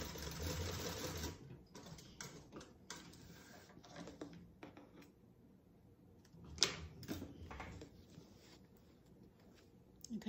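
Sewing machine basting a key fob onto a crossbody bag, with a short run of stitching at the start, then intermittent quieter stitching bursts and fabric handling, a sharp click near the middle.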